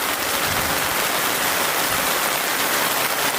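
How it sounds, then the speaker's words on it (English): Dense, continuous roar of heavy rain falling at an outdoor soccer match, loud and close with a steady hiss and no voices. "We've got plenty of wind, plenty of rain."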